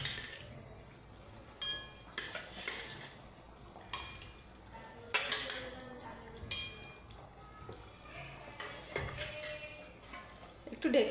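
Fish going into simmering water for a fish curry and being stirred, faint bubbling and low sizzle with scattered clinks and pot scrapes, quiet and close with irregular bursts of activity.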